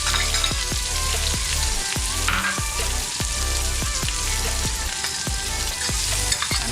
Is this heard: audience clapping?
no